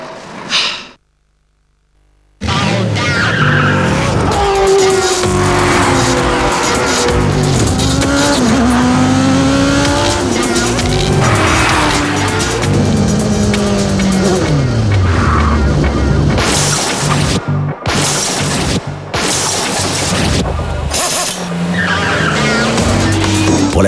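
Race cars in Gran Turismo 4 howl through corners with repeated loud tire squeals and skids, engines rising and falling in pitch, broken by brief silent cuts and a short near-silent gap at the start.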